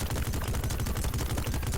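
The Commando Pea in Plants vs Zombies Garden Warfare fires a rapid rifle-like burst, a dense rattle of quick shots packed close together, loud and alone.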